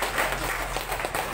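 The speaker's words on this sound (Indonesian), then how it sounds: "Tepuk tangan buat BBC." Applause from an audience at a company presentation for PT. BBC, a brief, dense patter of clapping throughout.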